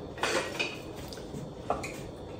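Shrimp salad ingredients with herbs stirred in a bowl, a steady wet scraping and clinking of utensil against the dish, close and continuous with no talk.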